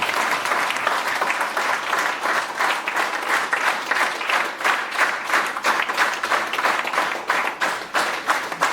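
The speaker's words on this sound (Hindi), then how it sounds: "एक बार जोरदार तालियां हो जाए" A corporate laughter yoga group at GAIL India claps loudly and hard. The dense applause carries a pulsing, rhythmic swell and stays close and steady from start to finish.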